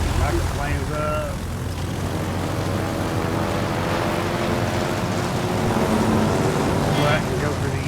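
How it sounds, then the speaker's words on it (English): Rocket planes drone past in a World of Warships naval battle, a loud, steady propeller roar with a rushing engine sweep near the start and end, as players talk over it. "Rocket planes up."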